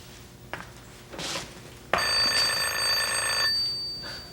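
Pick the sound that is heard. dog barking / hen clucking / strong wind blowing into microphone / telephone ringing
telephone ringing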